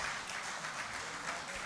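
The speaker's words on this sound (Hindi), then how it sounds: "आप सबकी भरपूर तालियों में जनाब शुएब कयानी।" An audience at the Najam Fellows mushaira poetry gathering in 2023 applauds with a faint, steady wash of clapping that sounds distant and even throughout.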